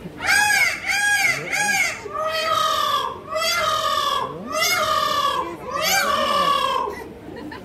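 A person imitates a peacock's alarm call given on meeting a tiger, with a series of loud, nasal, rising wails, repeated several times in quick succession.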